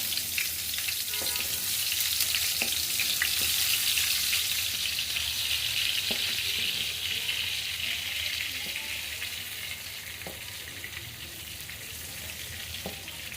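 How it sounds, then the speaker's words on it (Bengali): Chilies and onions frying in hot oil in a home kitchen, a steady broad sizzle that swells and then eases slightly, with a few faint clicks and stirring taps scattered over it. "তো মরিচ পেঁয়াজ একটু ভাজা হয়ে গেছে"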